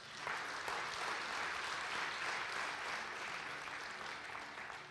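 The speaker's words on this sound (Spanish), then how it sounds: "Dale un aplauso al Señor." A church congregation applauds together after a sermon, a steady broad wash of clapping held at an even level throughout, with no voices standing out.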